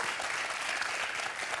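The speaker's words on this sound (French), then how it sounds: "on va applaudir Martin, parce que ça marche très bien." Studio audience applause for a contestant on a French television quiz show, a brief, even wash of many hands clapping at moderate volume with no break.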